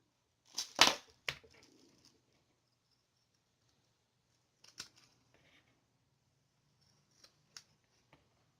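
Scissors trimming excess material from a handmade Valentine's Day gift, a few crisp, close snips in a quiet room, with a loud cluster early and small faint clicks later.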